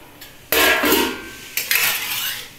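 Pulao is stirred in a cooking pot with a metal ladle, making two loud scraping, clattering strokes against the pot with a short pause between them. No voices are heard.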